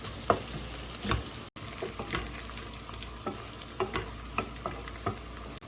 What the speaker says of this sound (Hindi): 2 मीडियम साइज़ की प्याज है बारीक काट ली, लाइट गोल्डन होने तक गोल्डन कर।